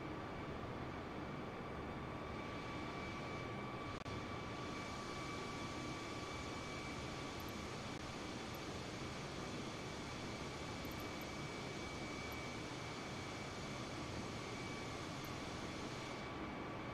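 A simulated airliner on its landing approach in a flight simulator game, heard as a steady, loud broadband engine roar with a constant whine, unbroken and alone for the full stretch.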